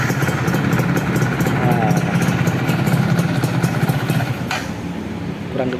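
A modified Yamaha F1ZR two-stroke motorcycle engine, built for daily riding, idles steadily and loud throughout, with a continuous burbling rhythm and a brief mechanical clatter near the end.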